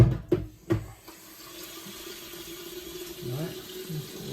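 Hot water runs from a tap indoors in a soft, steady stream, preceded by a few sharp knocks and clatters.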